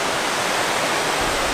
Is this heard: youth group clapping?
no